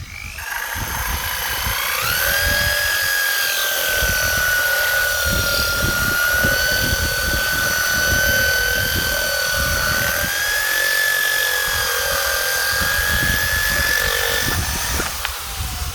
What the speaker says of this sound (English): this is for all you geezers out there that thought it would be hard for me to drill the pot